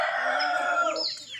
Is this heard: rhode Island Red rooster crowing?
yes